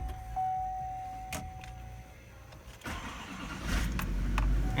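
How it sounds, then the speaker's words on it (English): A big old diesel on a fishing boat turns over and catches: a whine and clicks first, then the engine rumbles to life and settles into a loud, steady idle. "Start up this big old diesel."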